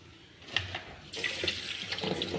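Water pours from a tap in a steady, close stream that swells louder halfway through and keeps splashing to the end, with no talking.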